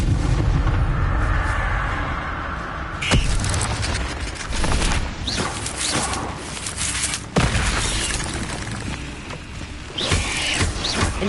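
Repeated Confringo spell blasts in Hogwarts Legacy, a series of booming explosions with crackling, shattering bursts spaced a few seconds apart over busy combat noise, loud and near.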